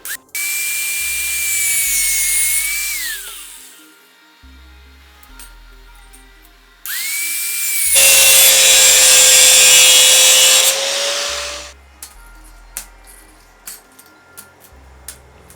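An angle grinder runs in two loud sustained bursts, whining as it cuts a stainless steel golden strip for a headboard, with the motor spinning up and winding down between cuts and light workshop clatter after.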